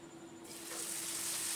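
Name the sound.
spice paste sizzling as it fries in oil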